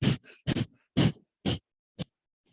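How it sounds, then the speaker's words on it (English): Rapid, forceful nasal breaths in the breath of fire pattern come as short, sharp puffs in an uneven run of about six bursts, close and loud with brief silences between them. "This breath pattern happens in and out of the nose,"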